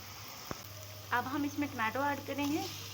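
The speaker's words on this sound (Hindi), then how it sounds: "टमाटो को तकरीबन हम 2 मिनट तक अच्छी तरह से फ्राई करेंगे" Chopped tomatoes fry in a pan for a chana dal dish, giving a steady low sizzle that keeps going under a person's talking.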